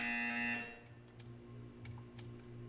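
A brief, faint electronic buzzer tone from the Portal 2 video game sounds at the start, then fades into quiet game ambience with a few soft clicks.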